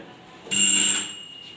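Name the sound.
quiz buzzer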